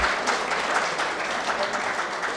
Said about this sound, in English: you give clap to him